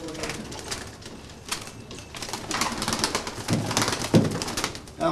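Tumbler pigeons coo softly and intermittently at close range, with occasional wing flutters and rustling in a busy loft, no talking.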